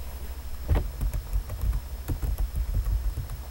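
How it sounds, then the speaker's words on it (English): Soft, close typing on a computer keyboard, a quick irregular run of key clicks lasting a few seconds with no talking. "go to your address bar and just type in google.com"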